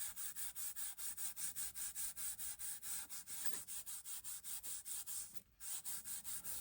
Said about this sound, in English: Now I'm going to just burnish.